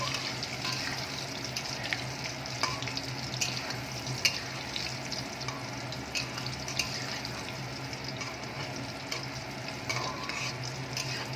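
Chicken koftas frying in oil, a low steady sizzle with occasional soft pops and clicks of turning, quiet and continuous with no speech.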